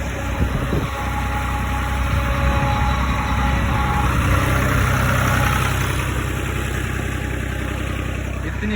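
A tractor engine idles at a village canal in hot sun, a steady low rumble with a constant mid-range hum that stays loud and even throughout, without talk.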